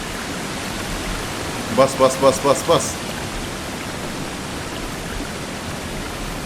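Running water in the horror game Exit 8 hisses as a steady, even rush filling the whole scene, with a brief burst of a voice speaking partway through.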